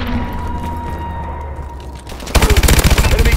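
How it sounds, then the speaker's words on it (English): Enemy missile strikes in the Call of Duty: Advanced Warfare video game, during a capture-the-flag match: a low droning lull suddenly gives way to a loud, rapid barrage of pounding impacts in quick regular succession. "Enemy missile strikes."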